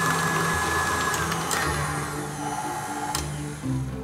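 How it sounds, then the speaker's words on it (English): An electric mixer runs continuously at high speed, beating a light, fluffy fluffernutter pie filling made with confectioner's sugar, with a steady motor whine and rattling that stays loud and close throughout. "So then we're just gonna let the mixer go again."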